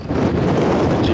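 Gale-force wind buffets the microphone in a loud, continuous low roar of rumbling gusts, with no voices heard.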